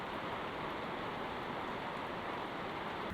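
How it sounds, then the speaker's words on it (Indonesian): Heavy rain falling outdoors near a kitchen, a dense, steady hiss of downpour holding at an even level throughout, with no voices. "Hujan sangat deras sekali ya teman-teman."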